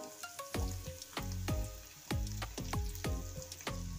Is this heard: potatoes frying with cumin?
yes